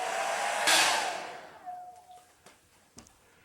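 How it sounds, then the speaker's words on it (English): A hair dryer on low speed, used to dry watercolor paint, blows in a brief breathy whoosh that swells then fades within a couple of seconds, followed by a few soft clicks and taps. "This is the time to use the hair dryer"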